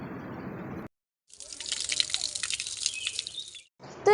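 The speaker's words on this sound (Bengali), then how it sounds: "তো আমরা এখানে পা ধুয়ে নিলাম।" Water pours and splashes as feet are rinsed at the entrance gate of a Hindu temple, a short steady gush after a brief pause, fairly close and moderately loud.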